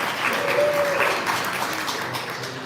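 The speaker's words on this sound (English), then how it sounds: "A round of applause" Steady audience applause at a 1 Million Cups Detroit Metro startup pitch event, a dense wash of clapping that holds evenly throughout, fairly close.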